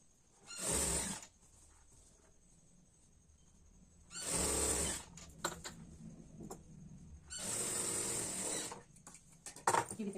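Sewing machine stitching blouse fabric along the edges in three loud, steady bursts of about half a second to a second each, with quiet handling and faint clicks between runs.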